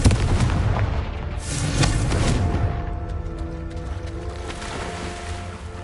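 A Confringo fire spell explodes in the game Hogwarts Legacy, a loud booming blast that rumbles and fades over several seconds, with no talk over it.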